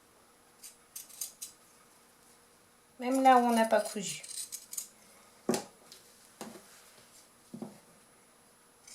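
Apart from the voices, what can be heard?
pinking shears cutting fabric Christmas decoration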